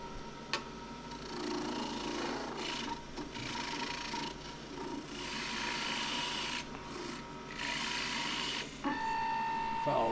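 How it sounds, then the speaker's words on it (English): MDF being peeled down by a turning tool on a wood lathe: a continuous rasping, scraping rub at moderate distance, with brief pauses and shifts in intensity as the cut changes, and a faint voice now and then. "I'm just going to peel down the MDF a bit"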